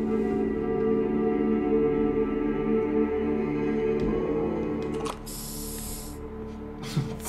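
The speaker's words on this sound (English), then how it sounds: "Sounds like spray paint." In the video game Far Cry 4, a steady mechanical drone gives way to a short, bright hiss of spray paint during a vehicle paint job, followed by a second brief spurt near the end.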